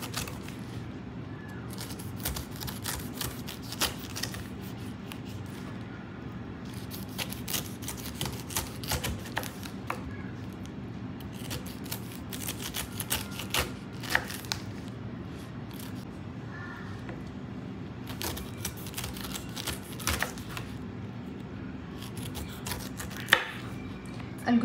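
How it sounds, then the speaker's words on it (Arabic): A knife cuts the peel off a pineapple in a steady series of soft, close chopping and scraping strokes, repeating irregularly on a board with no talk. "نجي من الجوانب نحاول نقطع"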